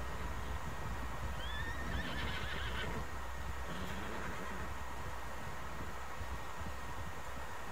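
A horse whinnies sharply near the start in Red Dead Redemption 2, followed by soft rhythmic hoofbeats over a low steady hum.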